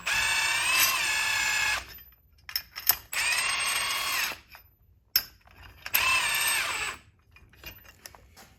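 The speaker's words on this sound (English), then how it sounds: "We'll use our impact to just kind of make it quick." An impact wrench tightens front suspension bolts on a Triumph Spitfire during restoration. Three loud sustained rattling bursts of a second or more each are separated by brief taps and quieter pauses.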